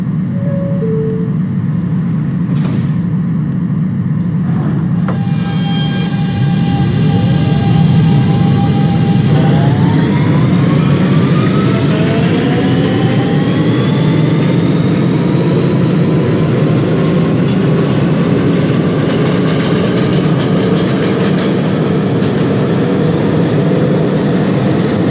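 An R160B Siemens subway train on an A Express run, rendered in the Openbve train simulator, rumbles loudly as it pulls away. Its motors whine in rising, layered pitches that climb steadily as the train speeds up.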